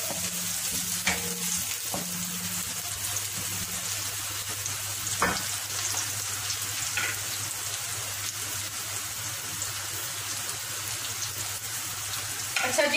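Onions and green chili sautéing in a pan give a steady close sizzle and crackle, with a few brief knocks and spoon scrapes against the pan over a low background hum.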